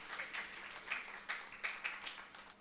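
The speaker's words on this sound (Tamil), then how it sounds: "அவருக்கும் ஜோராக கைத்தட்டுங்க." A church congregation at St. Antony's Church in Kaspa applauds during a feast Mass, the clapping faint and distant in uneven swelling bursts.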